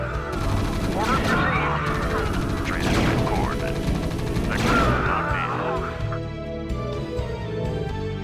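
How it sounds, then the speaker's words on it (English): Battle gunfire from the video game StarCraft during a Terran mission, a dense continuous rattle of shots and mechanical clanks over game music, thinning toward the end. "Base is under attack."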